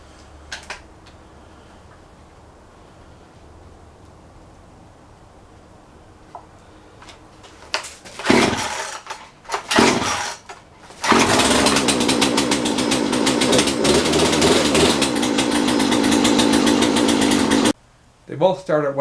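Champion and Poulan Pro chainsaws start with a few sputtering pulls and bursts, then one runs at a loud, steady, close buzz for several seconds and cuts off abruptly. Someone talks before the engine starts.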